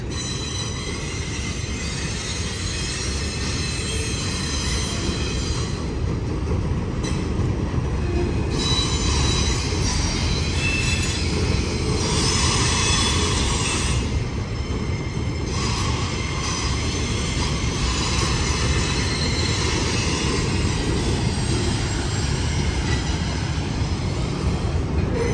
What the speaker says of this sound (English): This is a work train,